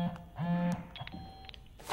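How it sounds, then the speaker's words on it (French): Electronic beeps from a phone in a Rainbow Six Siege match, a few short tonal bleeps and a sustained tone, heard alone over faint game ambience. "C'est le téléphone, merde."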